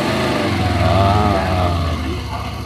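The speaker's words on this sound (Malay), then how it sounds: "Tu silinder enjin." A Morbidelli T252X adventure-touring motorcycle's two-cylinder engine idles and revs briefly, a steady close throbbing drone with a slight rise in pitch midway before settling back.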